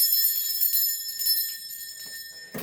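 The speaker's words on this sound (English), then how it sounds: "Now I'm going to be ringing a bell. This is just to cleanse the space around us." A single bell rung to cleanse a space, a bright sustained ringing tone that shimmers and slowly decays, clear and close with no talk.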